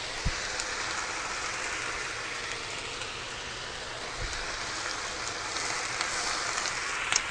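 Mushrooms sizzle steadily in a small frying pan, a soft continuous crackle with no talking.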